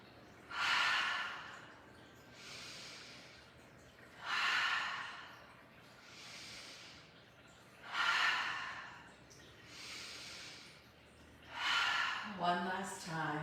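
Yoga breathing in a Warrior Flow session, with repeated cycles of breath drawn in through the nose and pushed out forcefully through an open mouth. About six strong, airy breaths come at a steady pace, close to the mic, and a brief voice follows at the end.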